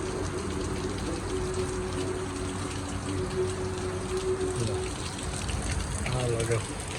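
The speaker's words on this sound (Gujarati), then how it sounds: "ફૂલ વરસાદ ચાલુ થઈ ગયો છે એક ધારો." Heavy, steady rain pours continuously in a broad, even wash of noise during a thunderstorm, with water running nearby and faint voices in the background.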